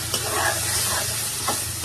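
A spoon stirs spiced meat for tehari, seasoned with black pepper and biryani masala, with a splash of water in the pan. A steady close sizzle runs throughout, with scraping strokes at a regular pace.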